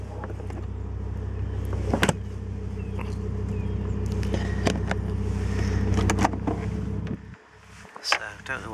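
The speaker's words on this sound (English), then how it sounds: "Power tailgate, as we can see." The power tailgate on a BMW M5 Touring with SMG gearbox runs as a steady electric motor hum for several seconds, ending in a soft latch thud, with someone talking quietly nearby.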